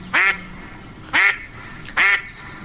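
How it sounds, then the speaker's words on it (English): Three separate duck quacks ring out at a steady, evenly spaced rhythm, each short, loud and nasal, close by, with a quiet background between them. "I'd forgotten how funny a duck quack is"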